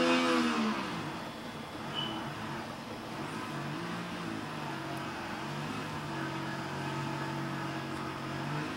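A Harrier jet in a video game flight simulator: a steady engine roar with a droning hum runs throughout at a moderate level, with no talk.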